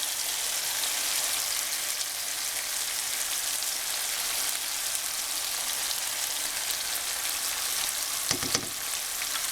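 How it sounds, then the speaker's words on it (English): Curry paste for a Guyanese fish curry fries in a pot with a steady, close hiss and sizzle, and a brief clink or stir near the end. "my rule of thumb when making curry is to let this curry paste fry for about 2 to 5 minutes"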